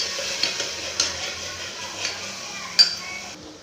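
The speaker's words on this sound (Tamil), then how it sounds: "வெங்காயம் பச்சை மிளகா போட்டுக்கலாம். போட்டு நல்லா வதக்கிக்கலாம்." Onions, green chillies and ginger garlic paste sauteing in a pan make a low, steady sizzle, broken by several light clinks and taps of a spoon against the pan.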